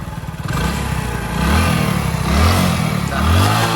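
A freshly repaired motorcycle engine runs steadily up close, with a throbbing low rumble and a couple of rising revs, no voices over it.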